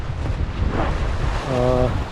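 Ocean waves wash and slosh around a sailboat on an Atlantic crossing, heard with wind buffeting the microphone, and a brief voice-like tone breaks in near the end.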